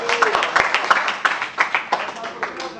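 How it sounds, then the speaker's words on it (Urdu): Scattered applause in an assembly hall for a member, a patter of several people clapping with uneven bursts, while someone keeps speaking over it. "ملک صاحب کے لیے تالیاں"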